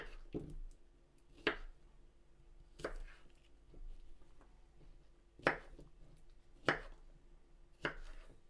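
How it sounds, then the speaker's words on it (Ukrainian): Parsley being chopped finely with a knife on a board, a quiet close series of separate cuts, about eight crisp taps spaced roughly a second apart, with no talking. "Нарізаємо мілко петрушку"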